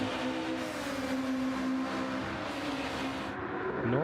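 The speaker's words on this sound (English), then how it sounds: "screaming engine" A Ferrari 296 race car engine in a sim racing game at Circuit Gilles Villeneuve holds a steady, high-pitched droning wail with a faint shifting tone near the end, loud and continuous without talk.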